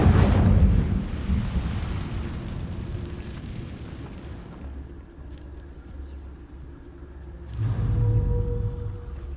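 An Incendio fire spell is cast in Hogwarts Legacy, a loud roaring whoosh of flame bursting at once and then fading into a low rumble before a second fiery burst swells near the end.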